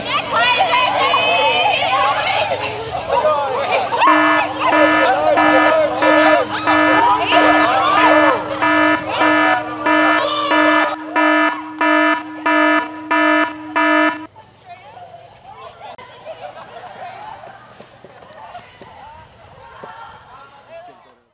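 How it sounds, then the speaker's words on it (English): A school fire alarm rings loudly during a drill in a passing period, a pulsing electronic buzz repeating in steady bursts over crowd bustle and talk, then cutting out to leave students' voices and footsteps. "Let's see how a group of students responds to a fire alarm during the passing period between first and second period."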